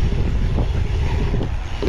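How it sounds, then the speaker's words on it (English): Strong wind at an outdoor pump track buffets the microphone in a steady, loud rumbling roar with gusty fluctuations throughout. "The wind is pretty strong"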